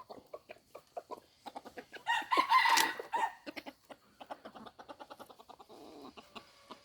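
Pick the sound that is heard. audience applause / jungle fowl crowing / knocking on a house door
jungle fowl crowing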